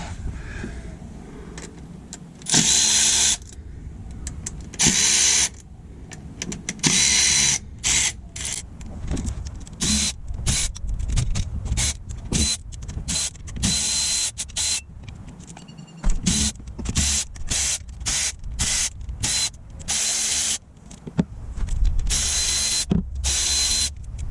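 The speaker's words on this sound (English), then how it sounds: "Now I'm using a M12 electric ratchet with a 10mm socket and a, what is this, 3-inch extension." An M12 electric ratchet fitted with a 10mm socket and a 3-inch extension, working bolts on the transmission pan of a 2009 Chrysler Town and Country, whirring in many short, loud bursts separated by brief pauses.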